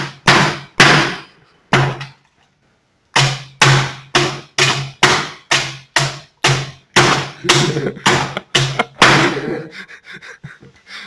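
Hammer blows strike a DVD drive, about fifteen sharp, loud knocks in irregular bursts with a short pause early on, ending in a faint rattle.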